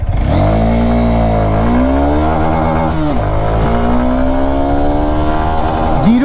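A 2025 Honda Hornet 2.0 motorcycle engine pulls hard through a 0-100 acceleration run, its loud, close tone climbing steadily through several gear changes with brief dips between shifts.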